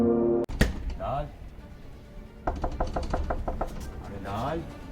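Rapid firm knocks on a red wooden door, a burst after a sudden thud, with a man calling out between the knocking.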